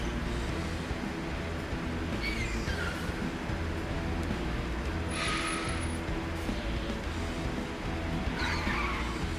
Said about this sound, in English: Oh, we're skidding anyway.